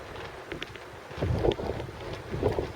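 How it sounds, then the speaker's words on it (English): Wind gusts buffet the microphone on Gorleston Pier during sea fishing, rumbling low and swelling in two louder surges, with no voices. "Just because the sun's gone behind a cloud, there's now a gust of 20 mile an hour."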